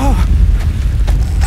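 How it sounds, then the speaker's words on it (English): Deep earthquake rumble from a Siren cutscene on PlayStation 2, a loud, low, sustained roar filling the short moment with faint tonal traces above it. "An earthquake!"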